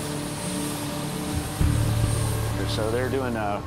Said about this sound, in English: engine startup and rotor engagement